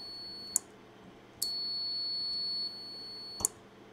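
A high electronic beep from a WiPy microcontroller buzzer sounds in quiet room noise, first a short one and then a longer tone lasting about a second, with faint clicks.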